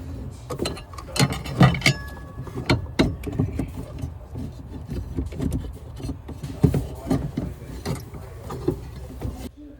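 Suzuki Samurai blower motor being worked into its plastic housing, with irregular clunks, scrapes and rattling knocks of metal and plastic close by, no talking.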